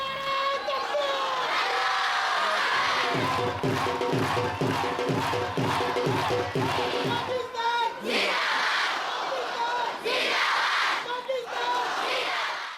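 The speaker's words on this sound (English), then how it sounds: "Grandstands filled with cheering crowds make the place more thrilling than a cricket final" A large crowd packs the grandstands at the Wagah border ceremony, roaring and cheering continuously with a rhythmic surge of chanting in the middle, loud and enveloping throughout.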